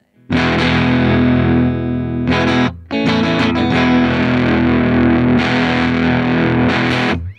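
Electric guitar through a Dogman Devices Earth Overdrive pedal with overdrive at maximum plays loud sustained distorted chords with a brief break near the middle, thick and saturated throughout.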